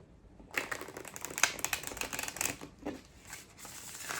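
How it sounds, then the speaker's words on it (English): Tarot cards are shuffled by hand, a close, crisp run of quick riffling and flicking bursts with short pauses between them, no voices. "I should shuffle the cards first."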